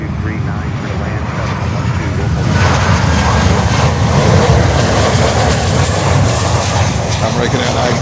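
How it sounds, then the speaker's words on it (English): An American Airlines Boeing 737 roars loudly and steadily at Miami airport, its broad engine noise swelling slightly midway, with a faint voice under it. "712, American Airlines 737."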